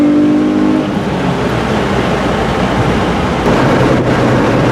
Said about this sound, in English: It's a perfect balance of engine and exhaust mixed together.